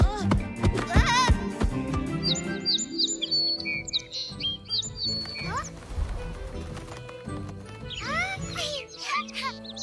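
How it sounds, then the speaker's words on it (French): Birds chirp and call in quick repeated bursts, drawn in with a reed bait, over a busy cartoon soundtrack with music and other noises. "On avait enfin réussi à attirer des oiseaux avec notre appât."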